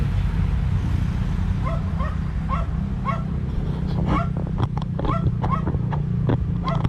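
A dog barks and yips repeatedly in short bursts over a steady low rumble, some barks sharper and closer than others.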